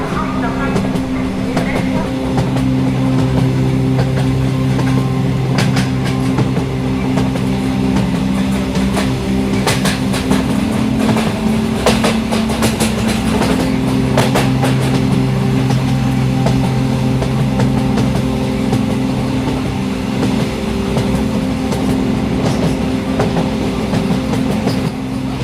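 A passenger train travelling from Lucknow to Rishikesh rumbles loudly and steadily, with a continuous rolling drone, rail clatter and a voice talking at times.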